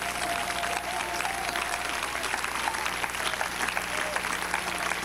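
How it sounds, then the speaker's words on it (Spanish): A church congregation applauds during a Spanish-language sermon; continuous, moderately loud clapping from many people runs throughout, with a faint steady hum beneath it. "Dale un aplauso al Rey."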